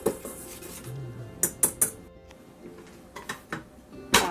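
A utensil stirs flour, baking powder and salt in a bowl, making soft scraping with a few sharp clinks against the rim, fairly close and with no talking.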